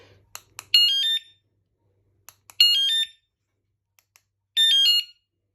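A Smalife 113 dB bike alarm sounds in loud, piercing electronic bursts: a few short chirps, then three warbling shrieks each about half a second long, with silence between them.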